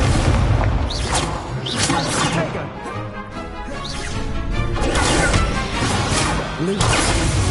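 Incendio fire spells cast repeatedly in a Harry Potter video game, loud bursts of whooshing flame with crashing impacts in a dense, continuous barrage, with shouted voices mixed in.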